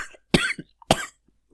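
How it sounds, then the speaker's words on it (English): A person gives two sharp, close coughs about half a second apart, each followed by a short rasp, with silence around them. "That wasn't a take, that was me coughing."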